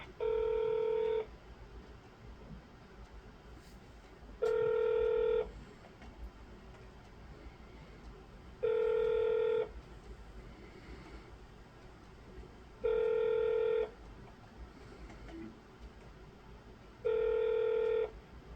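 A phone line calling a senator's office gives five long, evenly spaced electronic tone bursts, each lasting about a second and repeating every four seconds over a faint line hiss.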